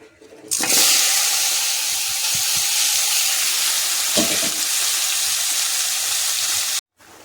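Turmeric, salt and chili powder hitting hot tempering oil in a pan while cooking a drumstick and tomato curry, a sudden loud sizzle that holds steady for several seconds, with a few stirring knocks, then cuts off.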